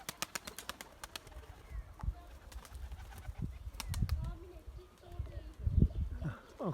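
Pigeons, including a young blue bird being trained by a pigeon keeper, take off and fly with scattered bursts of wing flapping and light coos, alongside faint background voices.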